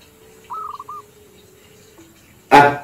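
A perkutut, or zebra dove, gives a short run of soft cooing notes against a quiet background. A sudden loud burst of noise follows about two seconds later.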